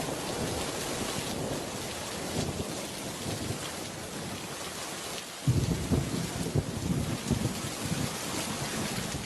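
Heavy rain hisses throughout while thunder rumbles, with a sudden louder crack and rolling boom about halfway through; no one speaks.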